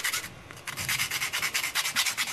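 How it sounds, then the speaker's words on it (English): Sanding stick rubbing back and forth on a small fingerboard, producing quick rhythmic rasping strokes in a steady series, close and clear with no voices. "these sanding sticks work really, really good for the fish board because you can round the sides and you have a lot of control"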